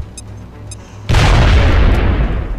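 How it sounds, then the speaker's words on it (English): A grenade detonates in the video game XCOM: Enemy Unknown: after a quiet stretch with a few faint electronic blips, one sudden loud boom hits and rumbles on as a decaying roar. "Grenade out."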